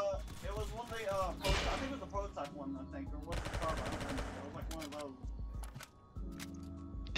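Rapid gunfire bursts from the Roblox shooter Arsenal ring out over continuous excited talk, with dense repeated shots clustered mid-clip and brief pauses between volleys.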